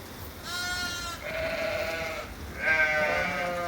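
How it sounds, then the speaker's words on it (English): Lambs on a sheep farm bleating close by, three drawn-out overlapping cries one after another over a low outdoor background. "these lambs are getting more braver every day"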